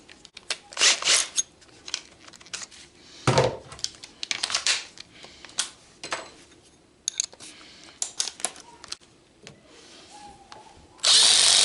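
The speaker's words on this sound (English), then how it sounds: "On the spade bit, you'll see that the drill did indeed drill faster." A power drill fitted with a 1-inch spade bit bores through wood in bursts, its whine rising and falling between short pauses, loud and close with no voices.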